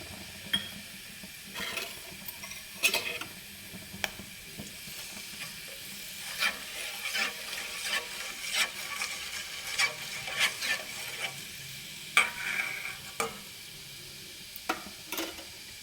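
Fenugreek seeds and curry leaves bubble and crackle in hot oil heated for a hair oil, with scattered sharp pops and spatters over a steady sizzling hiss, close to the pan.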